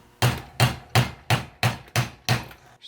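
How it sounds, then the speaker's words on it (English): Seven evenly spaced hammer taps ring out as a bearing race is driven into a Ford tractor 5-speed transmission housing, each a sharp metallic knock at close range with no talk. "just see if I can just tap it around with a hammer and get it in"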